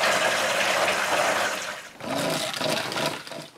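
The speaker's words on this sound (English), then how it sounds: "I bring them inside and fill the small barrel we keep in the cottage during winter" Water from buckets pours into a small barrel inside a winter cottage: a steady, rushing splash that stops briefly, then a second pour begins, close and continuous.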